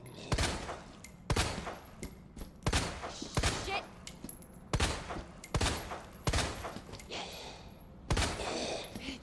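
Repeated gunshots in the Resident Evil 2 Remake video game, aimed as headshots at a hulking enemy: about ten sharp, loud reports spaced roughly a second apart, each with a short ringing tail, with faint game ambience between them.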